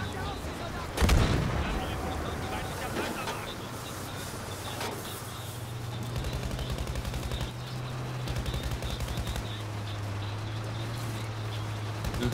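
Battlefield V gunfire, with a sharp loud blast near the start followed by scattered distant shots and a low steady rumble of a tank engine underneath.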